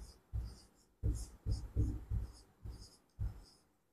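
Marker or chalk strokes on a board during a C++ variables lesson: several short scratchy strokes with pauses between them, close and quiet, with soft speech-like sounds mixed in.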